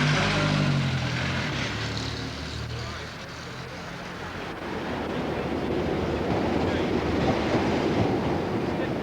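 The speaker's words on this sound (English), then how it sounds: "The London train pulls in." A London train pulls into a station, a loud rumbling roll of wheels and carriages up close with rattling and rushing noise, while a voice talks briefly beneath it.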